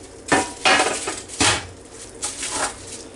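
Pork ribs for Hawaiian rice and pork ribs are set onto an aluminum-foil-lined pan, giving a few close, bright clatters and scrapes of metal and foil in separate bursts, with no talk.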